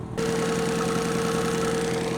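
A car engine running on cooking oil idles steadily after starting, a close, even mechanical drone with a constant tone and no speech.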